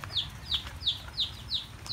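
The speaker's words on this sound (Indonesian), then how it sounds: "Oh, ada jago." A chicken at a backyard animal pen clucks in a quick, regular series of six sharp, evenly spaced calls over a low background rumble.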